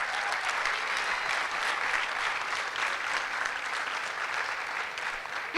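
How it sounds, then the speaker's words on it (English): Dense, steady applause from an audience at a high school JROTC awards ceremony greets the cadets, a sustained wash of many hands clapping at even loudness throughout, with no voices. "Please join me in giving these cadets a round of applause for their dedication to our program"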